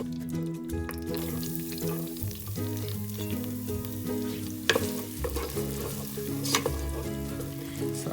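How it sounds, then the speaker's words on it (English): Aromatics stir and sizzle in about two tablespoons of hot oil for Hainanese chicken rice, a soft steady frying hiss with scraping stirs and a couple of sharper utensil knocks, while music hums underneath. "So I'm just gonna stir the aromatics a little bit around and have it slightly sweated."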